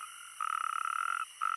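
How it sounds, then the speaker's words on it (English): Male natterjack toads calling in rainy-season Iberian wetland, a loud, rapid, rattling trill held for nearly a second, a short pause, then another trill starting, close and clear over quiet background. "With the onset of the rainy season, male natterjack toads claim their territories."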